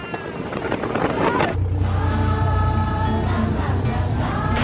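Wind buffets the microphone, then a motorboat engine rumbles up close and keeps running steadily with a throaty drone.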